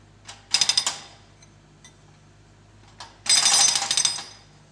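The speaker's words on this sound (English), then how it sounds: "In the digger cabin, a man controls the digger arm and breaker." A hydraulic breaker on a digger arm hammers pavement at a construction site, with two loud bursts of rapid percussive pounding separated by a quieter pause and faint ticks.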